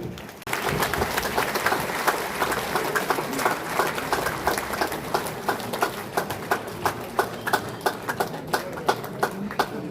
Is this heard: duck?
no